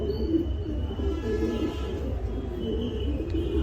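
A pair of red Lahori baby pigeons coo softly in a low, continuous murmur, close by, with faint chirps and steady background noise and no talking.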